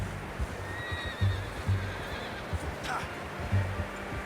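A horse whinnies at moderate volume in Red Dead Redemption 2, with hooves clip-clopping in a loose rhythm underneath for about four seconds.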